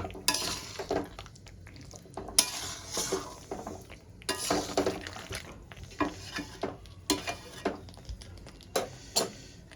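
Butter chicken curry being stirred in a pot on a gas stove, with a lid lifted off. Intermittent clinks and scraping bursts of a spoon against the pot come and go at close range over a soft background, with no talking.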